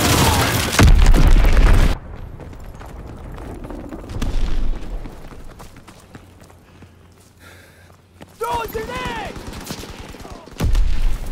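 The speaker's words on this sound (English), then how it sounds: "Dropping Azon bomb." Explosions and gunfire in a WWII video game as an Azon bomb drops: heavy booming blasts open the scene, then scattered crackling shots over rumble, with a loud burst near the end.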